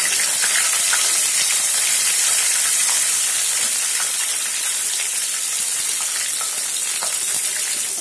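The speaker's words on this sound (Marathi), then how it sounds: "ते झालं की याच्यात आता हिरव्या मिरच्या टाकायच्या." Green chillies fry in hot oil with mustard seeds and cumin for chana dal and cabbage sabzi, a loud, dense, hissing sizzle that holds steady throughout with scattered small pops.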